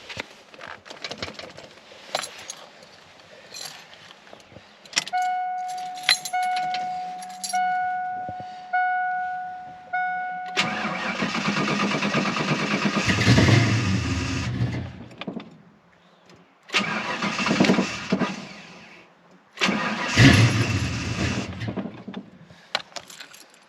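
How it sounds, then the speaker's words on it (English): A 1988 Ford Mustang LX with a 306 V8, on a cold day, is started after some clicks and rattles. The engine turns over and runs roughly in loud bursts that cut out and restart. "So let's go ahead and get it started."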